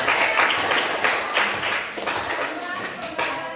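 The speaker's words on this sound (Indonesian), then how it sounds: "tepuk tangan untuk teman-teman" A classroom of students claps for their classmates during a biology lesson, a dense burst of hand clapping that fills the space, with a few voices mixed in.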